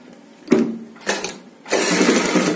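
A sewing machine stitches piping onto a blouse back neck in short bursts: two brief whirring runs, then a longer continuous stretch of steady mechanical hum, close and clear with no talk.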